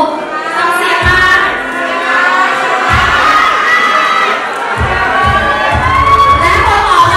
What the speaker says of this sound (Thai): ใครเชียร์จังหวัดไหนอยู่ต้องเสียงมา